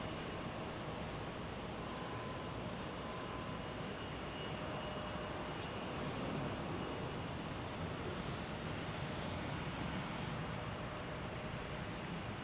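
A jet aircraft departing Salt Lake City airport at night, a broad continuous engine roar holding steady and loud throughout with a slight swell midway, no voices present.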